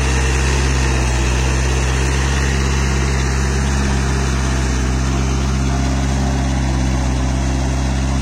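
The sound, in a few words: mini tractor engine running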